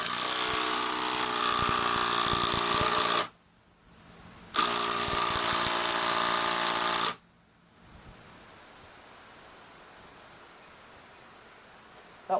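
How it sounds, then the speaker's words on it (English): A power tool tightens a bolt on a Kohler Courage engine during a rebuild: two loud whirring bursts of about three seconds each, separated by a short pause, then quiet shop noise. "I have to tighten that bolt down"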